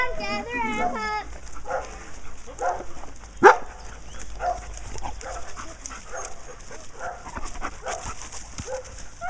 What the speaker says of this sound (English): Come on, puppies. Let's go back out in the grass.